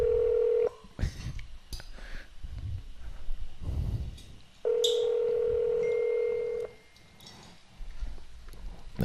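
Telephone touch-tone dialing and a steady dial or ringback tone during a call to a pizzeria, with long sustained tones alternating with short key beeps and muffled voices and handling noise in between.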